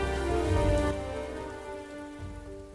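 Steady rain falls, a continuous even patter close by with no voices.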